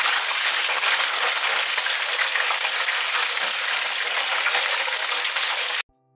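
Dense, steady crackling and sizzling of battered jumbo chicken wings frying in hot oil, close and loud, cutting off abruptly at the end.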